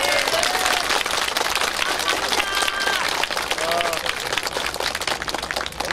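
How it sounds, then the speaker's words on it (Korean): Loud, sustained applause from a crowd at an outdoor political rally in support of a lawmaker's hunger strike, steady clapping filling the whole span with a few voices rising over it. "먼저 큰 박수 한번 보냅시다."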